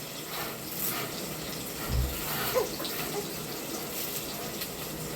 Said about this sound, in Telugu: కరివేపాకు కొత్తిమీర అయితే వాటర్లో కడిగేసుకొని